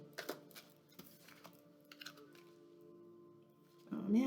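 Tarot cards being shuffled close up: a series of quick papery riffles and taps in uneven bursts, then a brief voice near the end.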